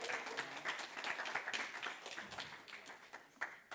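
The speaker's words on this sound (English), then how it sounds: "round of applause for Kenny." An audience at a summer intern final presentation event breaks into sustained applause, dense overlapping claps at moderate level throughout.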